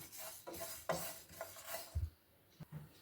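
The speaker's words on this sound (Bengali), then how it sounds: "এবার একটা পাত্রে আমি 2 চামচ মতো সাদা তিল নিয়েছি, এটা ড্রাই রোস্ট করে নেব।" White sesame seeds dry roasting in a pan over a low gas flame, with soft scraping and stirring, light clinks of a spoon and scattered taps, quiet and close.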